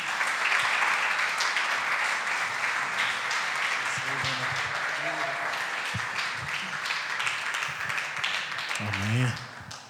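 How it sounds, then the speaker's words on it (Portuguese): A church congregation gives sustained applause, a dense wash of clapping from many hands, with voices calling out and someone speaking over it near the end. "Vamos dar uma salva de palmas para o nosso Senhor?"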